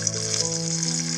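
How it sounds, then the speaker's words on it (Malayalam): Cashews and raisins fry in cow ghee with a close, steady hiss and sizzle, lasting about a second under a faint hum, with no speech. "ഞാൻ 2 ടേബിൾ സ്പൂൺ പശു നെയ്യ് ഒഴിക്കുകയാണ്. അണ്ടിപ്പരിപ്പ് മുന്തിരി ഇട്ട്"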